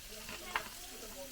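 Pork belly fries in a pan for pansit habhab, a quiet, close sizzle with a single soft clink of a utensil in the middle, brief and faint.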